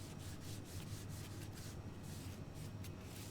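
A cloth wipes excess wood stain off small hazelnut-painted wood pieces, producing faint, rapid rhythmic rubbing strokes repeated close by without talk.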